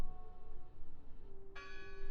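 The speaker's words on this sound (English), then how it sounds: "Listen! The bell!" In the video game Draugen a church bell rings once, a faint distant tone that hums and rings on, then a brighter strike sounds near the end against a quiet background.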